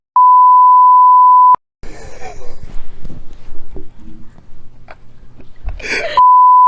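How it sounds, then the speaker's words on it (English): Censor beeps ring out as steady electronic tones at the start and end, bracketing a stretch of muffled podcast chatter between siblings in which the swearing is covered. "The swear words have the beep."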